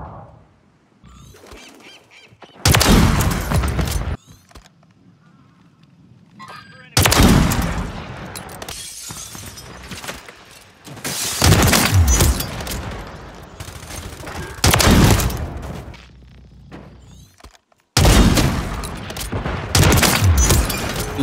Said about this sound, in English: Shoot your damn gun.